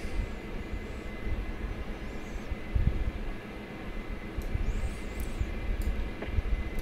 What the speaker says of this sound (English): Starting the right engine first, number 2.